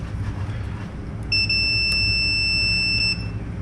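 A continuous high-pitched electronic beep from a 1977 Pontiac Trans Am's AC system sounds for about two seconds over a low background hum, close and clear.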